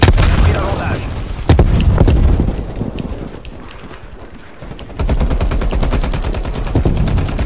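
A frag grenade bursts amid gunfire in Call of Duty Cold War: a heavy boom followed by rapid automatic weapon fire, loud and near, with game sound effects around it.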